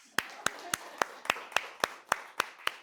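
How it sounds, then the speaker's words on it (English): Slow, evenly spaced single claps, about ten sharp hits roughly a quarter second apart, fairly quiet and close, from a small audience at a conference talk rather than a full ovation. "We're going to give you a standing round of applause."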